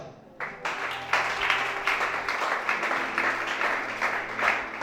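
Applause from a church congregation during a French-language sermon, sustained clapping rising after a brief pause and continuing steadily at moderate volume with a roomy crowd texture.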